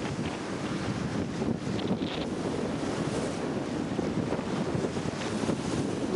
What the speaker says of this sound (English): the wind has come up 20 to 25, so it's a tough beat